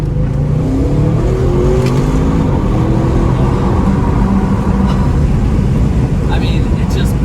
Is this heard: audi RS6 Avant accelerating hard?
yes